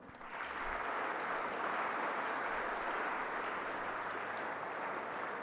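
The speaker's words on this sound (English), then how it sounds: "Please give a loud applause" A large audience in a hall gives loud, sustained applause, a dense even wash of clapping that swells quickly and holds steady without pause.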